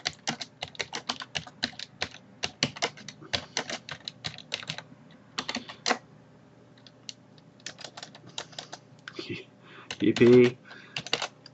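Rapid keystrokes on a computer keyboard while entering text into a whiteboard tool in video-conferencing software, steady clicking bursts close up with short pauses, and a brief exclaimed voice near the end.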